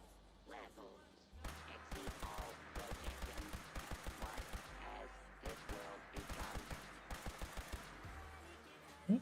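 A cannon in the video game Fallout 76 fires repeatedly in quick, evenly spaced bursts of sharp thuds, forming a rapid rhythmic volley with short pauses between strings of shots.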